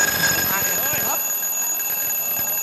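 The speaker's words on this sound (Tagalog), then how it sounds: "Alarm. Alarm. Palakas yung alarm ko." An alarm clock rings with a continuous high electronic tone, holding steady for the whole stretch while voices talk briefly over its first part.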